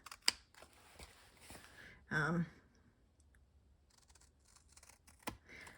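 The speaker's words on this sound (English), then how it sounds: "I'm going to cut the sides off." Scissors trim the sides off a piece of paper for a handmade thank-you card, making a few sharp, separate snips and clicks close by in a quiet room.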